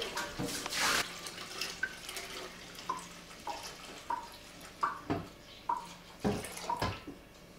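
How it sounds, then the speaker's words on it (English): Cold water being poured into a batch of home-brewed beer, with a gushing pour at first and then a series of splashy sloshes and drips at an uneven rhythm, close by. "I'm going to be adding cold water from now on"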